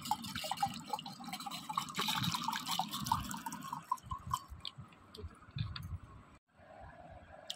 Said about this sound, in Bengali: একটু নুন চিনির জল করে দিই।